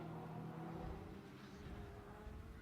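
A G56 GTP8 race car with a 6.2-liter V8 of just under 400 horsepower rumbles past at Road Atlanta, a steady low engine drone held throughout the clip at moderate distance.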